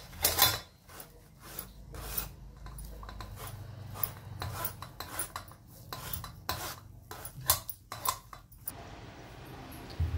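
Cooked puran (sweet lentil filling for puranpoli) pressed and scraped through a metal sieve over a kadhai, with repeated scraping and clinking of utensils against metal, close and steady, with no voices.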